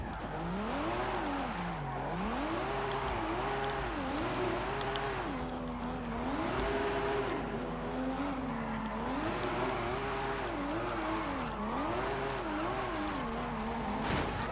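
A Nissan Fairlady Z 300ZX fitted with a Skyline engine drifts in the Forza Horizon 5 racing game, its engine note climbing and falling in repeated rev swells with tire squeal, loud and continuous throughout.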